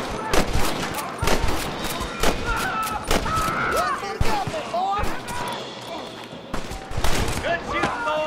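Rapid gunfire in a Western shootout in the video game Red Dead Redemption, loud overlapping shots and bursts cracking throughout amid shouting voices and game effects.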